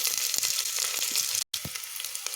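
Panch phoron spices sizzle and crackle in hot oil, a steady close frying hiss with small pops, broken by a brief silent gap midway before the sizzle resumes.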